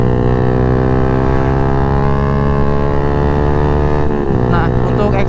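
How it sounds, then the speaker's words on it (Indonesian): Yamaha MX King motorcycle engine fitted with a ROB1 TGA full exhaust system and long silencer, a loud steady droning hum held near and constant, briefly wavering toward the end. "untuk exhaust sendiri gue pakai full system dari ROB1 TGA yang silincernya itu long ya"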